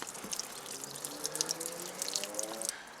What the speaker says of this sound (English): you can see the excess water is now draining away